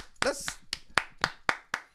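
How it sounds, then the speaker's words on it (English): A few sharp, separate claps ring out in a radio studio, roughly evenly spaced over two seconds, close and fairly loud, with a bit of voice at the start. "Let's clap for Kwani though."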